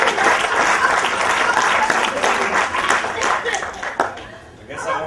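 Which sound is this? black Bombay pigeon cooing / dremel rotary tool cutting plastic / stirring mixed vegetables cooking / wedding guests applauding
wedding guests applauding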